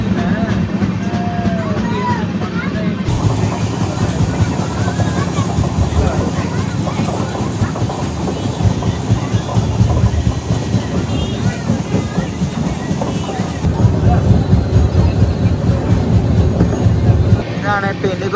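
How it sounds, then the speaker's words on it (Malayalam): Prasanthi Express, running from Bangalore to Bhubaneswar, rumbles past near Penukonda Junction in India, with a steady loud roar and wheel clatter through the whole stretch, heard from on board with some background voices. "ബാംഗ്ലൂരിൽ നിന്ന് ഭുവനേശ്വർ പോകുന്ന പ്രശാന്തി എക്സ്പ്രസ് ആണ് ഇപ്പോൾ അടിച്ചിട്ട് പോയത്"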